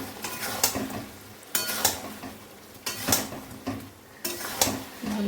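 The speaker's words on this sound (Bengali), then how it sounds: "ভালো করে এখন মাংসটা কষিয়ে নেব।" Meat is sautéed with spice paste in a pan in a steady, close sizzle, broken by four loud bursts of scraping stirs spaced about a second or so apart.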